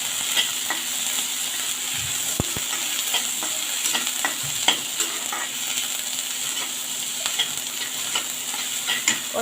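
Peas cooking with browned onions in a pan, a continuous close sizzle with frequent scraping and tapping of a spoon as they are stirred, steady and moderately loud without speech.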